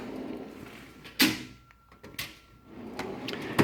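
A drawer on a Snap-on KRL1022 toolbox slides open in a workshop, with a few sharp metallic clunks and rattles separated by quiet gaps.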